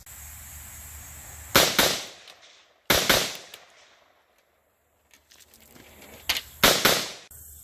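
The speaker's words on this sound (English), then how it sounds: "we just saw the 300 blackout AR pistol in action with the James Madison tactical drop-in trigger" A 300 Blackout AR pistol fitted with a James Madison Tactical drop-in trigger fires loud, sharp shots in quick pairs and short clusters, separated by pauses of a second or two, with the sound ringing off briefly after each group.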